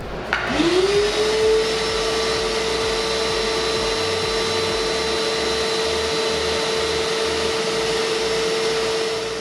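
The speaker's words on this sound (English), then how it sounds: "I'm going to run the vac while I've got my amperage detecting multimeter hooked up in line" A DeWalt DXV10SA wet/dry shop vacuum switches on and spins up within the first second, then holds a loud, steady motor whine and airflow rush alone to the end.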